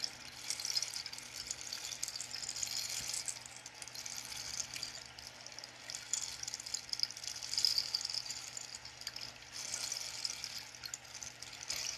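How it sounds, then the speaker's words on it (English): Rain stick turned for a sound-healing session, a faint, even shower of rattling beads resembling running water, rising and falling gently for twelve seconds with no voices. "The rain stick is for sound healing"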